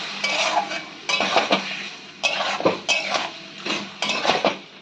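A metal spoon scrapes and clinks against a pan in several separate bursts while chicken masala with garlic paste and garlic water is stirred. The strokes come close and fairly loud with short pauses between them, and a faint sizzle sits underneath.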